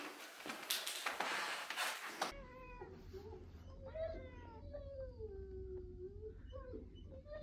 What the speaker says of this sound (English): I'm going to bring the cat to her, I guess.